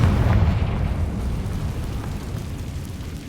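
Confringo fire spell blast in the Hogwarts Legacy video game, a heavy, rumbling explosion that starts loud and fades slowly into a low, sustained roar.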